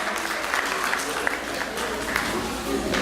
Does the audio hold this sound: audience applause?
yes